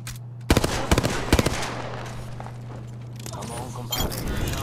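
Gunfire in the battle royale shooter Apex Legends during a solo ranked match, sharp shots in quick clusters then a rattling exchange that trails off, with more shots near the end over a steady background hum.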